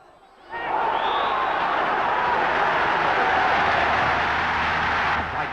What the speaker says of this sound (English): most of the vast crowd are soon roaring encouragement